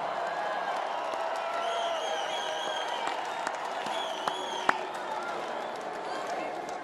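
A large political rally crowd in Phoenix, Arizona keeps up steady applause and cheering, a dense and continuous roar with a few scattered louder shouts.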